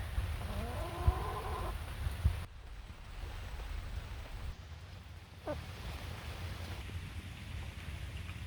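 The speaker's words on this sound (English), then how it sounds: "Stay out of the rain." Steady rain falls outdoors in a continuous broadband hiss, with a few brief animal calls near the start and no talking.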